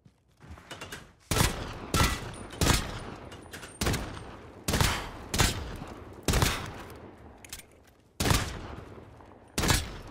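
Repeated gunshots in the video game Modern Warfare, sharp loud bursts fired in irregular volleys of one to three shots, close and clear with no talking.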